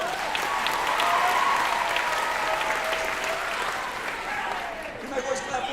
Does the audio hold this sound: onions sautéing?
no